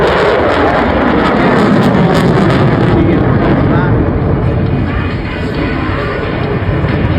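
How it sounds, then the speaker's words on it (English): Jet aircraft at the Blackpool Airshow pulling up into a loop, a loud, sustained broadband roar that stays steady and dense throughout, easing slightly near the end, with a commentator talking over it. "Nathan aggressively pulls back on the stick and the aircraft's going to go into a loop before breaking away for a double corkscrew"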